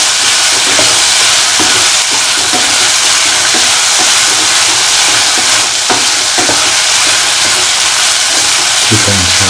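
Potato pieces for potato pickle sauté in a pan. They make a loud, continuous frying sizzle and hiss, with occasional stirring scrapes and knocks.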